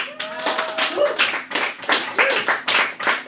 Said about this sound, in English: I'm a little sad that I asked you to applaud loudly